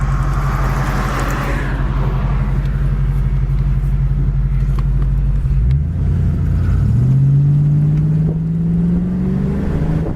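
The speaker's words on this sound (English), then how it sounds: "We're at a stop sign in gear and it's idling about 800 RPMs." A 1987 Ford Mustang GT engine idles in gear at about 800 RPM with a steady low rumble and harmonic hum, then the pitch rises briefly as it revs a little before settling back to a smooth idle.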